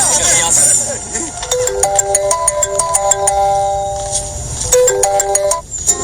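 A bright electronic phone ringtone plays a repeating melodic pattern, loud and close, with a voice briefly at the start.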